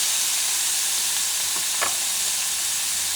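Onions hit a hot pan over medium heat and sizzle steadily, a dense frying hiss with a few brief crackles, close and alone, while a spicy stew is being built.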